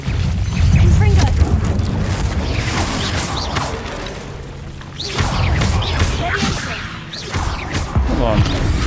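A Confringo fire-blast spell goes off in Hogwarts Legacy inside a cave, a series of booming, crashing explosive bursts with whooshes that fill the whole stretch, loud and close, with a voice calling out the incantation.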